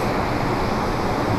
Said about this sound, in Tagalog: Nagmumoist yung paligid sa sobrang lakas ng bagsak ng tubig.